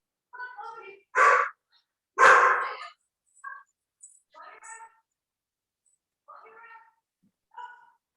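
A dog barks a few times nearby, two loud sharp barks standing out among softer yips and vocal bits indoors in a kitchen, with quiet gaps between.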